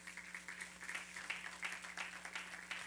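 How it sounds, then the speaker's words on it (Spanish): Faint, distant applause from a church congregation during a Spanish-language service, soft uneven clapping over a low steady hum. "Den un aplauso al Señor esta mañana."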